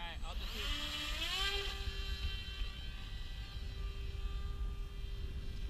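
Electric motor of a 3D-printed Northern Pike RC model plane on a 3S battery whines at launch, rising in pitch as throttle increases, then holding a steady high tone over wind rumble with people talking nearby.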